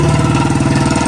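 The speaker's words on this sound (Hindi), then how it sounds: "जो इंजन है single cylinder engine air cooled" A 25 hp, 1557 cc Eicher 241 tractor with a single-cylinder air-cooled engine runs steadily close by, giving a loud, even, thumping chug at a constant idle-like pace with no voices.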